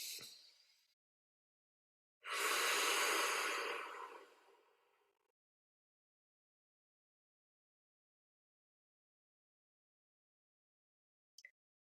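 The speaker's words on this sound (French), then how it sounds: "Prenez une profonde inspiration par le nez, expiration par la bouche cette fois-ci." A slow, deep breath drawn in through the nose and released through the mouth during a guided relaxation, heard as a soft hiss, then a longer airy exhale, then silence.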